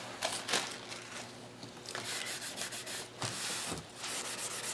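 Rolled magazine pages for a journal are burnished by hand, a close, soft rubbing and sanding swish in several strokes with small paper crinkles between them.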